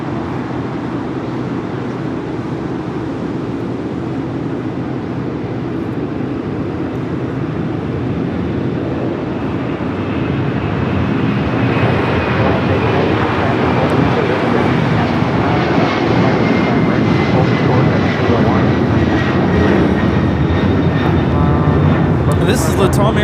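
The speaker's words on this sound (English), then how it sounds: "This is Latam Airlines 2479 taking off to Lima, Peru on the 767-300ER." A LATAM Boeing 767-300ER takes off from LAX. A jet rumble grows steadily louder and rougher over the second half while people talk nearby.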